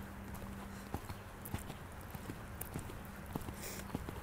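A horse cantering in a riding arena, its hoofbeats landing in a steady rhythmic clip-clop at moderate distance, fairly faint over quiet background.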